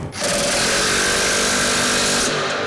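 A loud, steady whine of a power tool runs nonstop for a couple of seconds, close up, as it tightens bolts and nuts on a grain bin paddle sweep, then it winds down at the end.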